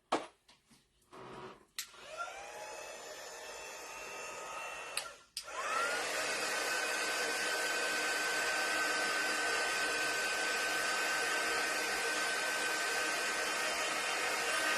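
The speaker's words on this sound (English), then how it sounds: "let me hit this with the drying tool a little bit" A hair-dryer-style drying tool blows steadily on a wooden popsicle-stick spring flip sign with a transfer. After a few short knocks and a pause, a loud, continuous whooshing hum with a faint whine holds to the end.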